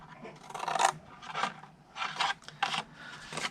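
Paper snips cutting about a half inch off a strip of cardstock, heard as several short, close rasping scissor strokes in an irregular rhythm, with no talking.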